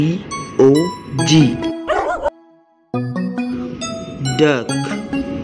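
A dog barks and yips several times in quick bursts, close and loud, with a short silent gap in the middle.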